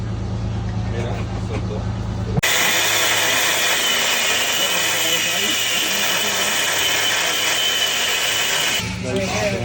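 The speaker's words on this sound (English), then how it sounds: "Got to cut one of the bolts." A power tool cuts through a bolt on a sailboat keel during re-bedding work, starting abruptly and running as a loud, steady, high grinding whine for about six seconds before cutting off.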